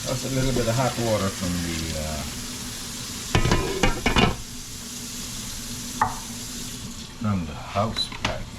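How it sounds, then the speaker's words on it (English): Warm water from a kitchen sink faucet runs into a cooking pot of simmering eggplant stew, a steady close splashing stream with brief clinks and stirring scrapes around it. "Just a little bit of warm hot water from the faucet."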